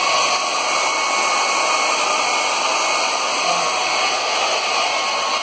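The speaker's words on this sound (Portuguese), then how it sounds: "liguem o secador" A hair dryer blows steadily on a wet belly, a loud, continuous airy whoosh with a constant motor whine that holds unchanged from start to finish.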